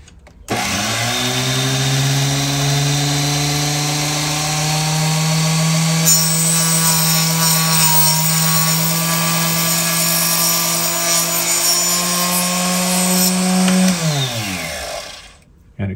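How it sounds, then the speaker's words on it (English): Acrylic rod being cut into equal lengths with a power tool, a loud close motor whine that spins up, holds steady with a grinding edge for about thirteen seconds, then winds down. "We're going to cut it down, and what I'm going to do is I'm going to make 6 equal lengths"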